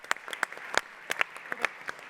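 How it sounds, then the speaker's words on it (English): Scattered applause from a conference session audience for coding contestants, sparse individual claps rather than a full ovation, faint and irregular over about two seconds with no talk. "Give our contestants a round of applause"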